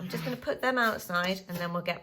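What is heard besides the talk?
No everyday noise stands out behind the speech.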